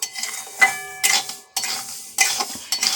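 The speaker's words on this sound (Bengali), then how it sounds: "আমি মুগ ডালটা ভেজে নিচ্ছি ভালো করে ভেজে নেব" Mung dal dry-frying in a pan as a spoon stirs and scrapes it, in short bursts of scraping and rattling against the metal with brief pauses between strokes, close and moderately loud.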